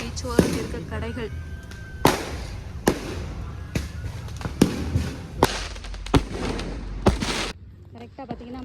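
Firecrackers and fireworks go off during a New Year 2026 midnight celebration on a beach by a Thai village: a string of sharp, loud bangs at irregular intervals, some near and some farther off, with people talking between them.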